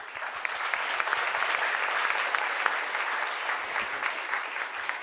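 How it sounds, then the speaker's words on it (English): An audience at a talent show bursts into sustained, even applause, dense clapping from many hands filling the hall at moderate distance. "So I'll request the crowd to give my dad a round of applause."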